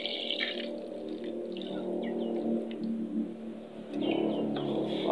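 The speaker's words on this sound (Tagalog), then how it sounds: "Konting coconut milk lang guys" Coconut milk pours in a gentle, continuous liquid trickle into a cooking pot for spicy seafood simmered in coconut milk, close by and fairly soft, with a brief swell near the end.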